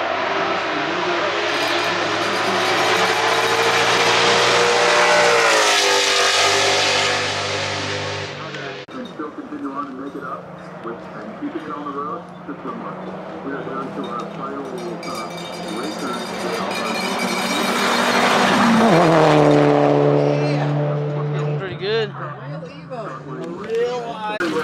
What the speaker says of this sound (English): there is a monumentous amount of different cars that run up this hill climb, and it's quite interesting to see all of these just fly through this section here.